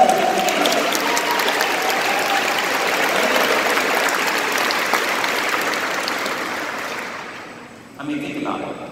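Sustained applause from a large conference audience fills the room for roughly seven seconds, steady and dense, then thins and drops away near the end as a voice begins again.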